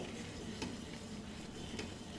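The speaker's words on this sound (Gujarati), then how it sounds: "આ વેલણથી હલાવશો તો બહુ સરસ થશે" Steady scraping as flour dough for papdi is stirred with a rolling pin, a continuous close-up swishing with a couple of faint knocks against the pot.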